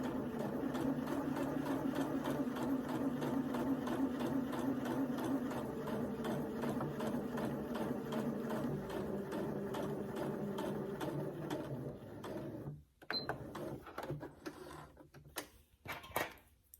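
A domestic sewing machine running a long gathering stitch on its longest stitch length, sewing garment fabric in a steady, rapid mechanical whir for about twelve seconds, then slowing into a few short stop-and-start bursts near the end.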